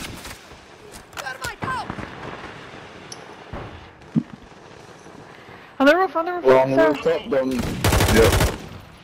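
Gunfire in a Warzone battle royale match on PS5, scattered shots with a denser burst toward the end, mixed with voices and other game sounds.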